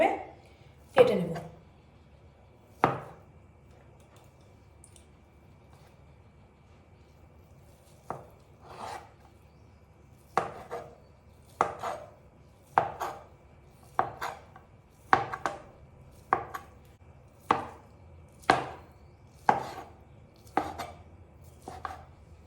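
A knife cuts homemade paneer on a board. About fifteen crisp, close chops land one after another, spaced evenly in the later part, with quiet gaps between them.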